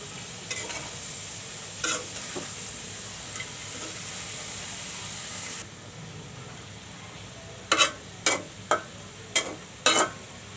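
Bottle gourd peel and cut jackfruit seeds go into a pan of dried fish, giving a steady low sizzle of frying with a handful of sharp stirring scrapes near the end. No one speaks.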